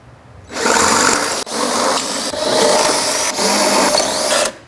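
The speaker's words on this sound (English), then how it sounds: "Now we're going to go with the bigger drill bit." A power drill fitted with a larger bit cuts into a Jeep EVO MFG armor bracket: one loud, steady, grinding run of drilling lasting a few seconds, with brief dips in between.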